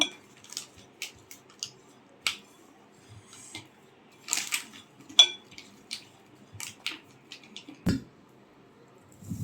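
Powdered milk mixture stirred in a pot, irregular metallic scrapes and clinks of a spoon against the pot, spaced sharp taps over a quiet background.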